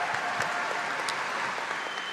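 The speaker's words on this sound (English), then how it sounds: "Can we get a round of applause for that" A crowd at a swimming championships applauds continuously, a bright sustained patter of many hands with a few sharper claps and faint cheers mixed in, filling the whole moment without pause.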